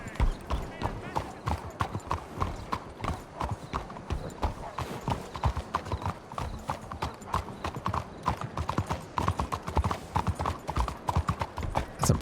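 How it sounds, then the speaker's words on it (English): A horse's hooves clip-clop at a steady walking rhythm in the video game Red Dead Redemption 2, close and clear throughout, with a brief whinny and people talking over it. "That's a pretty horse."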